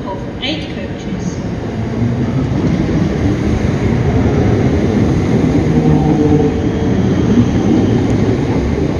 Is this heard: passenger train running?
yes